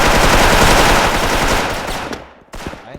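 Dense, rapid automatic gunfire in a video game roars loudly for about two seconds, then breaks into a few scattered final shots.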